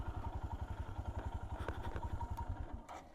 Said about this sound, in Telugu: జస్ట్ ఇప్పుడు ఒక జీప్ వచ్చింది, ఆ జీప్ని ఎక్కిస్తున్నారు